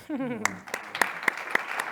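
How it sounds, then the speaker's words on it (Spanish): An audience claps for a panelist at a round-table event on rural talent. A voice speaks briefly at the start, then sharp, evenly spaced claps ring out over softer background applause. "Un aplauso para Olatz."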